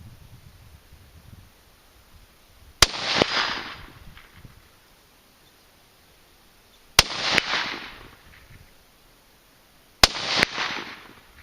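Three sharp rifle shots from a .223 Savage Axis firing 55 grain V-Max rounds at a long-range outdoor shoot, each a loud close crack followed by a rolling echo, spaced several seconds apart.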